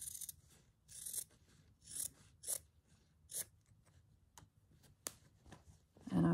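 Scissors trim back bulky fabric during hand stitchery in a series of quiet, close, crisp snips, about half a dozen irregular cuts with soft handling rustles between them.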